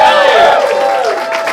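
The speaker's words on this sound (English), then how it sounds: "One more round of applause for Katy and Brandon, everybody." A crowd at a comedy roast battle show in Hartford breaks into loud applause and cheering, with whoops rising over a dense wash of clapping close at hand.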